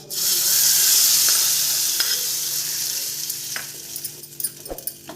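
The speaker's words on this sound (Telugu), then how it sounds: "పోపు వేసేసుకుందాము" Tempering spices sizzle loudly in hot oil while making instant chutney podi, a steady crackling hiss that settles into softer sputters and a few sharp pops toward the end.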